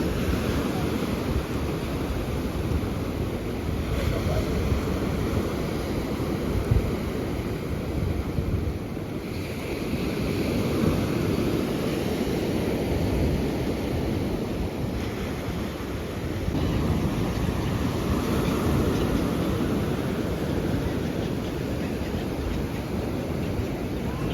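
Sea waves wash steadily on a relatively warm day at the seaside, a continuous broad roar with wind buffeting the microphone and no talking.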